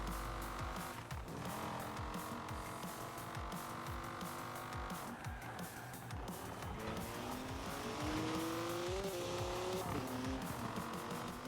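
A Pagani Zonda R engine in Forza Horizon 4 revs and roars steadily, with rising gear shifts and tire squeals, loud and continuous with no voices.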